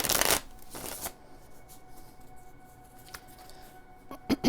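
Oracle cards are shuffled for a reading, with quick riffling bursts up close, then quieter soft handling and a couple of brief flutters at the end.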